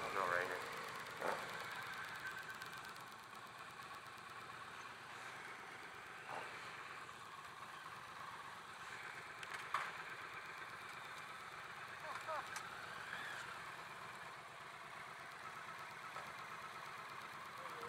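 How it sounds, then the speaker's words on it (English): A 2017 Triumph Street Twin motorcycle engine running steadily at low, slow riding pace off-road, a continuous mid-pitched drone with small revs and mechanical knocks, fairly distant and even throughout. "Good bike. I like it. Triumph Street Twin."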